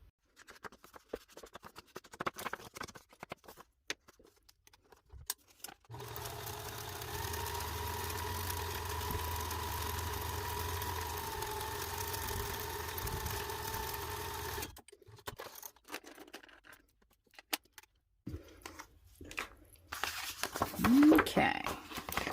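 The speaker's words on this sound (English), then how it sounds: "then we're going to run it through my sewing machine" Sewing machine stitching the edges of a paper file folder journal, a steady mechanical whirring run of about nine seconds with soft handling rustles before and after; quiet.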